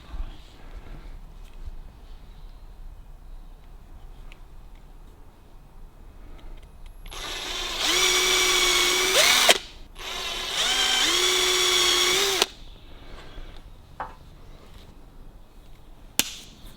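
A power drill bores a hole for refitting the rear seats of a 1954 Ford Mercury Sun Valley. Two loud, sustained runs of the motor whine close by, each about two to three seconds long, separated by a short pause, with quiet shuffling before and after.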